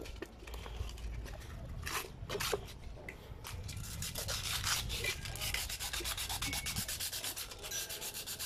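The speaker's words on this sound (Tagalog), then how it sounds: "nililiha ko muna bago ibalik para hindi masyadong mahirapan yung bearing pumasok" Sandpaper rubs metal by hand to clean off rust before a bearing is fitted, giving a close, steady scratchy rasp of quick back-and-forth strokes that speeds into a rapid, even rhythm.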